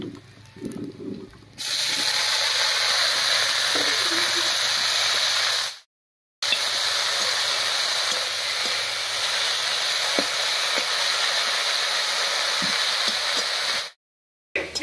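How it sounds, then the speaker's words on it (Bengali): Dhenki greens fry in oil with crushed garlic and slit green chilies, producing a steady hiss that stops briefly and then resumes. "ফোড়নের উপরে শাকটা দিয়ে আর 3-4 মিনিট রান্না করে নিলাম।"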